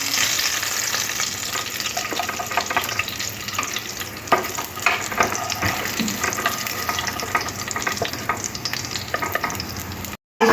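Fish heads, from a katla fish curry recipe, fry in hot oil, giving a steady, loud crackling sizzle with sharper pops and occasional stirring scrapes throughout, cut off briefly just before the end.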